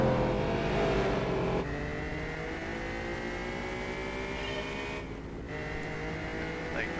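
Audi S4 with a V8 engine in Gran Turismo 4, a steady sustained engine drone with shifting harmonic tones, loud and continuous throughout, with a brief dip in pitch partway through.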